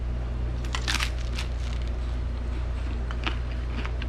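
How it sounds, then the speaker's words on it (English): Close, loud bites and chewing into a crispy tortilla tostada topped with crunchy potato, black beans and red onion, several sharp crunches in quick succession followed by softer crackling chews, no talk. "the crispy crunchy tortilla, the crunchy potato"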